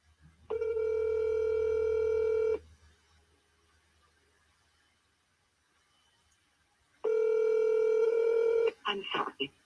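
A telephone placing a call gives two steady electronic tone bursts a few seconds apart with quiet in between. A voice starts speaking right after the second tone.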